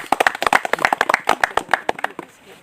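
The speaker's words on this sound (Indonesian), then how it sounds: "Tepuk tangan untuk kita semua." A group of young hikers on Mount Seulawah Agam in Aceh claps their hands together in a quick, uneven burst of sharp close claps that thins out and fades after about two seconds.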